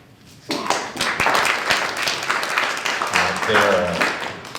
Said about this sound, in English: certainly deserves a round of applause